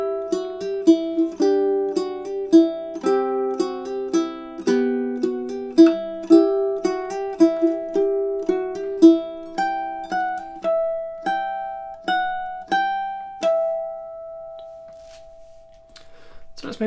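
A ukulele plays the Carol of the Bells outro as plucked, bright repeated notes and harmonics, steady and close, thinning out before a final strum.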